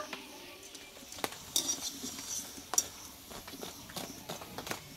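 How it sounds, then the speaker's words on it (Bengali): Crispy fried puffed-rice tiffin snacks give off sparse, sharp, faint clicks and crackles at irregular intervals against a quiet background. "কত সুন্দর আওয়াজ দেখো বন্ধুরা, কতটা খটখটে আওয়াজ আসছে, মুচমুচে একদম হয়েছে"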